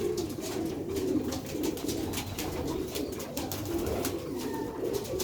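Pigeons of a fancy breed kept in a loft coo steadily and close by, layered soft throaty calls running throughout with no talk.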